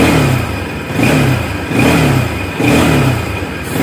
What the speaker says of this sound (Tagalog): So ito yung tunog ng stock CDI.